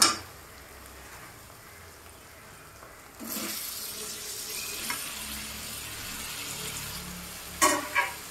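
Spices, capsicum and tomatoes fry in oil in a pan while cooking dahi chicken, a steady close sizzle that grows louder partway through, with a couple of brief clatters near the end and no talk.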